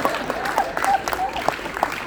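A live audience at a motivational youth talk claps in a dense, steady patter of hand claps, moderately close, with a few sharper claps standing out and some voices mixed in.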